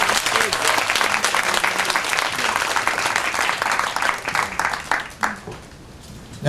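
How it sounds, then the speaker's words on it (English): Audience applause for a graduate at a 2022 graduation ceremony: steady, dense clapping throughout that thins out and fades toward the end, with scattered voices mixed in. "Round of applause for Ario."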